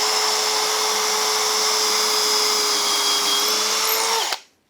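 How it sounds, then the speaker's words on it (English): A power drill bores into wood for a Christmas tree wall hanging with a loud, steady whine for about four seconds, then spins down and stops abruptly into near silence. "we're going to drill on that top face there"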